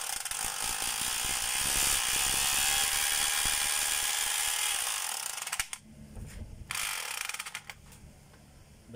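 A DeWalt D25032 rotary hammer runs in hammer mode with a loud, steady rattling drone for about five seconds. It then winds down into short, uneven bursts and mechanical clatter.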